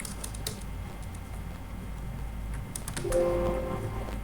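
Keys on a computer keyboard click in short scattered taps, with an Enter press, in a quiet room during Excel VBA work. A brief tonal beep follows near the end.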